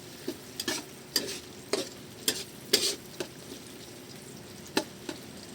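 Ingredients sauté in a pan while a utensil stirs and scrapes in short, irregular strokes over a soft, constant sizzle.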